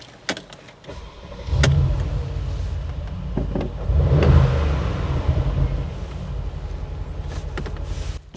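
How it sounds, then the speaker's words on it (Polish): A powerful four-litre twin-turbo V8 engine in a Mercedes G-Class G550 revs twice in deep, rumbling bursts, with quieter idling and a few sharp clicks between the pulls. "Cztery litry w V8 na 2 turbinach."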